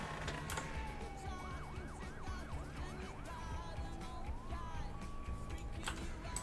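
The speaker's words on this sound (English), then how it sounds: "The sirens in this mod are so nice." Police sirens from a Polish mod in the Emergency 4 video game wail in rising and falling tones, layered with other sirens, all fairly faint.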